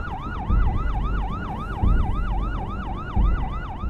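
Ambulance siren wailing in a steady rising-and-falling cycle, loud and close, with a low engine rumble and periodic heavier thumps beneath.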